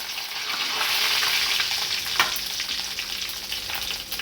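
Tempering spices crackle and sizzle steadily in hot oil for a cluster bean stir-fry, a dense, close hiss that stays even throughout with no voices.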